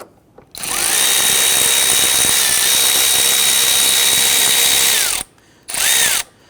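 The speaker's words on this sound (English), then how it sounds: "let's go ahead and remove the 8mm bolt right here." A power drill or driver spins out the 8mm bolt from the air box of a 2011-2023 Dodge Charger 3.6L V6, giving a loud, close, steady whine for about five seconds, then one short burst after a pause.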